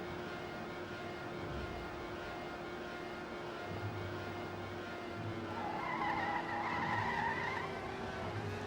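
Tires of a Trackmania race car skid and hiss through a drift, a steady engine drone underneath with a brighter squeal swelling near the end.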